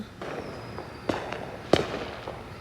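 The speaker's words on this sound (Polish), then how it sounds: "Gdzieś słychać fajerwerki." Distant Fourth of July fireworks in the USA pop and crack a few times against a steady outdoor background hiss, with two sharper bangs standing out.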